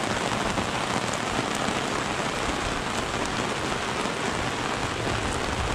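Heavy rain pours down during a thunderstorm on a fishing trip, a loud, dense, unbroken hiss of drops pounding a nearby surface, steady throughout with no voices.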